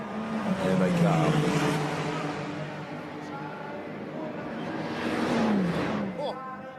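A Ferrari 499P Le Mans Hypercar and a Ferrari 296 GT3 race car run together downhill on the Imola circuit, their engine roar swelling as they approach, easing, then rising again as they pass close by, with a commentator speaking over them.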